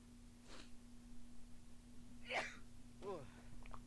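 A single sharp sneeze rises above a steady electrical hum, with faint vocal sounds just before and after it.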